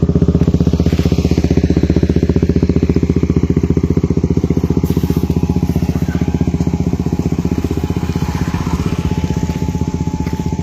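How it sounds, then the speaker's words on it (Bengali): Motorcycle traffic on the Ramakrishna Setu bridge at Arambagh: a close engine thrums steadily and loudly at an even, rapid pulse for the whole stretch, with no talking. "সাড়ে নটার সময় কিন্তু অবাধে যাচ্ছে বাইক এবং সাইকেল"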